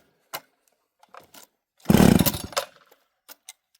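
A chainsaw with a faulty recoil starter is yanked once in a short, loud ratcheting pull, the engine coughing briefly without catching, surrounded by a few faint clicks and knocks.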